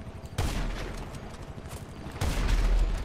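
Gunfire in GTA 5 Online, a dense rattle of shots under a steady low rumble, with a louder, heavier burst starting near the end.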